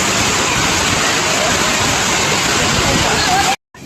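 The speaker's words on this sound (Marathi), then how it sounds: "लाटा येतात इकडे" Waves on a rain-swollen, flooded river rush past in a loud, continuous close-up roar of churning water that cuts off abruptly just before the end.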